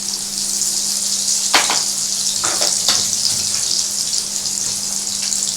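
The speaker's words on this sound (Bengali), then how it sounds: "আচ্ছা, এই যখন মাছটা ভাজা হবে" Stingray fish fries in a pan for a spicy Bengali fish curry, giving a steady, close hiss of sizzling oil with a few louder crackles and no talk.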